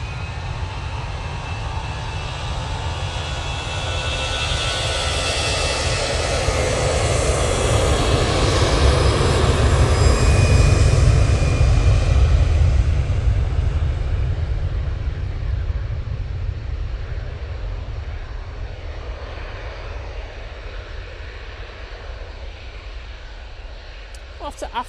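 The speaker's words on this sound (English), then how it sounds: "Off to Athens, that EasyJet goes." An EasyJet airliner bound for Athens takes off from Manchester Airport. Its loud jet roar swells to a peak midway, then slowly fades into the distance while someone talks over it.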